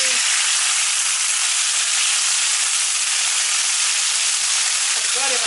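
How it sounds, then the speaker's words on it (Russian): Chicken sizzling in a wok over moderate heat, a steady broadband hiss and crackle of frying for a salad with fillet marinated in Dijon mustard, honey and lemon, continuous and fairly close with no talk. "не на большом огне обжариваем, пока курица готова"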